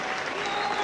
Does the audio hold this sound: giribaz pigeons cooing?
no